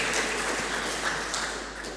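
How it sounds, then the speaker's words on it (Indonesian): An audience at an HKBP church youth gathering on Jalan Lurah applauds in a steady, dense patter of many hands clapping, sustained at an even level throughout with no distinct voices. "Tepuk tangan sekali lagi untuk semuanya kita yang hadir di sini"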